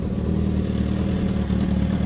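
A motorcycle ridden through steady drizzling rain, its engine droning in a continuous, even rumble close by, with no voices.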